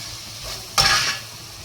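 Ginger garlic paste and tomato being sautéed in a pan: a quiet background sizzle, then a sudden brighter burst of hissing and scraping as the mixture is stirred, fading back within a fraction of a second.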